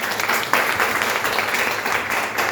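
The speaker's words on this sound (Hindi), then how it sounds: "उनके लिए चाहेंगे एक शानदार ताली।" Steady, dense applause from an audience at a product education meeting, loud and continuous throughout, with a slight swell partway through and no clear speech over it.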